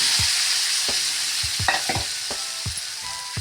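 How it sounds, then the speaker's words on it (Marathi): Boiled chickpeas are stirred and fried in a pan, with a steady sizzle under repeated scraping strokes of a spoon about every half second. The sound is close and there is no talking. "आणि चणे चांगले कुरकुरीत होईपर्यंत फ्राय करायचे"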